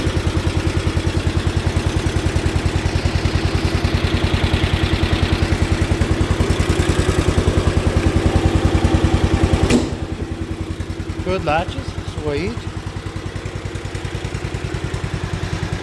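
A 1973 John Deere 140 H3 garden tractor engine runs with a fast, even putter that is loud and close, then drops to a quieter idle while someone speaks briefly.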